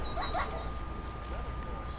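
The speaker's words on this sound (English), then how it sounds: "Shut up, doggy." A dog gives a few thin, high whimpers near the start, then faint yips, heard over a low background hum in an indoor setting.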